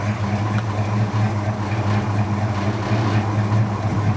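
An old truck engine idles steadily, a low even rumble with a constant hum, running alone at moderate volume without speech.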